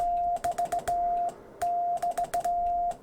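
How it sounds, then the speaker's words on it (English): Hand-sent Morse code CW tones, a single clear pitch keyed in uneven dots and dashes, two bursts separated by a short pause, heard alone and fairly close. "You can see why it's so hard to machine decode hand sent Morse, because it gets really kind of weird."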